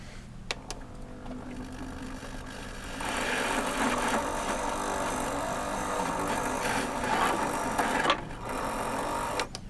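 Sewing machine stitching with thick stainless steel thread, a close, steady mechanical whir that starts after a few clicks, runs continuously, briefly stops and then resumes.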